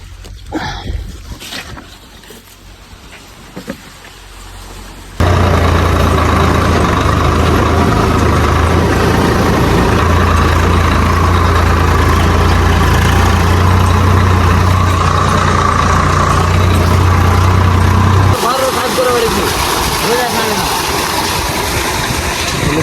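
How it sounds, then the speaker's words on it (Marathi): A truck engine idles close by with a steady, loud, low rumble after about five seconds, continuing at a constant level and dropping slightly near the end, while a vehicle is in place to load bananas. "मित्रांनो आता आपल्यात केळीला गाडी आलेली तुम्ही बघू शकता"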